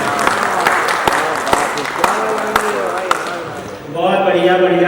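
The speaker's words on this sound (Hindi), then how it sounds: "तालियां तो आप बजाएंगे ही" An audience at a conference session applauds, a steady wash of claps with sharper individual hits standing out, before a voice begins speaking over the fading applause.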